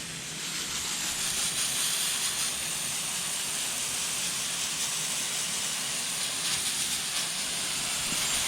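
A steady, loud hissing water spray rinses a freshly cleaned, caked-on surface, running continuously and evenly with no pauses.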